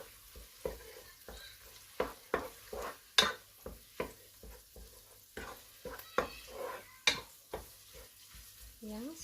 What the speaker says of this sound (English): saute it until the meat is getting okay